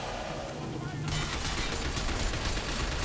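Heavy combat gunfire in the shooter game Binary Domain, a continuous loud barrage that swells after the first second and keeps rolling without pause.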